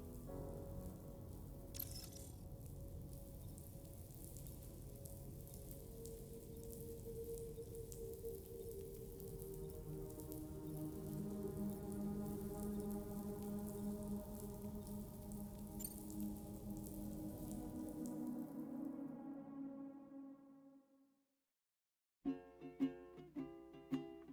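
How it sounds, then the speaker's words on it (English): Steady rain pattering in the video game Death Stranding 2, a soft continuous hiss of drops on surfaces under low, sustained musical tones that fade out before a brief silence and a few faint plucked notes. "Raindrops are falling on my head"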